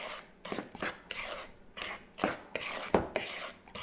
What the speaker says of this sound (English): so we're going to give that a mix